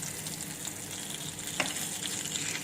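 Steady, close sizzle of butter frying in a hot pan, a continuous crackling hiss with small pops and no talking.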